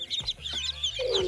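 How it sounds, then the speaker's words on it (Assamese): Domestic ducklings in a village yard give short, high peeps and chirps at close range, a few brief calls in quick succession with no speech. "এইকেইটা আমাৰ টিকলু হাঁহৰ পোৱালি"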